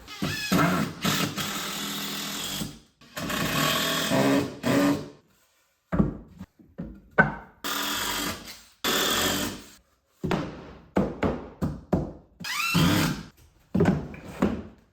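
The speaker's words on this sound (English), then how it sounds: "I'm gonna go ahead and screw these together" Cordless drill or driver screwing 2x4 lumber together for a kitchen island base, several short whirring bursts of the motor with gaps between them and clunks of handling the boards.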